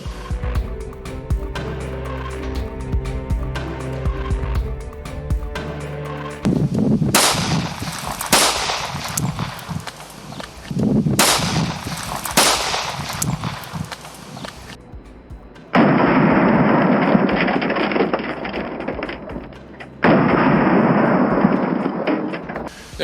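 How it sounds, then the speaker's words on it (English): A Springfield 1911 handgun fires 230 grain hollow point rounds into a car door, several sharp loud reports in quick clusters, then two longer bursts of echoing blast noise. "Our next gun will be the Springfield 1911, firing a 230 grain hollow point"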